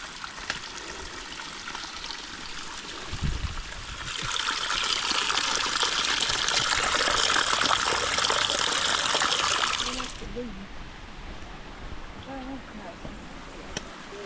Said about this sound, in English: So I guess this is the stream that feeds that little cascade waterfall.